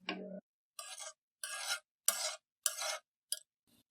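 Gulab jamun fry slowly in oil while a spoon stirs them, giving six quiet, evenly spaced scraping strokes separated by short silences.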